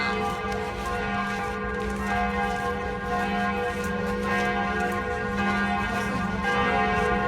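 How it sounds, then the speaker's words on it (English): Church bells ring at Notre Dame, a dense, continuous peal of overlapping tolls with sustained ringing tones filling the whole stretch, loud and close, with no talking. "That's awesome how people are sneaking up and ringing the bells."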